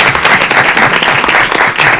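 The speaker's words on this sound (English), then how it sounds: "Let's give a round of applause," Loud, dense applause from a crowd at a city council meeting, steady clapping filling the room for a couple of seconds.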